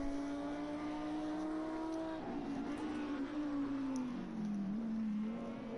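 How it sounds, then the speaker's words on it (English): Race car in a sim racing club sprint round at Barcelona National, engine droning loud and close with steady high revs, a brief lift and re-acceleration midway, then continuous revving. "Let's hear a car very closely."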